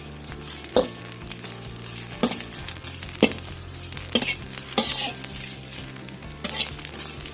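Winged termites dry-roast in a pan, a continuous crackling sizzle with periodic scraping stirs of the utensil against the pan, close and steady throughout.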